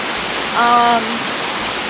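A waterfall on the Appalachian Trail rushes as a steady broadband wash of falling water, loud and continuous throughout, with a brief tonal sound rising over it near the middle.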